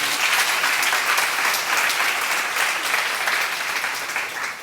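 Audience applause at a church seminar, a dense, steady wash of many hands clapping close and loud, slowly easing off toward the end.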